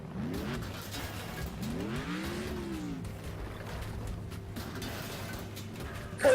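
A car in a demolition derby video game revs up twice early on, rising engine sweeps over a low steady idle, then settles into a quieter rumble, fairly distant and moderately loud.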